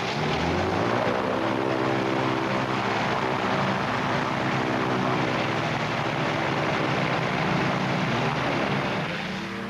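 A Michael Whittaker MW7 homebuilt light sporting airplane takes off, its engine and propeller droning loudly and steadily with a rising, buzzing tone throughout and a slight fade at the end.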